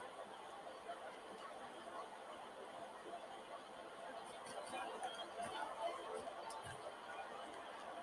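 Faint, steady stadium crowd ambience from Madden 17 during a Broncos versus Patriots football game, a distant murmur of chatter with a few brief sharper spikes.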